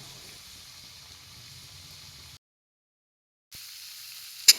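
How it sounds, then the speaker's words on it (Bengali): Carrots fry in a pan with a steady, fairly close sizzle that drops out briefly before starting again. "এইখানে আমার গাজর ভাজা হচ্ছে"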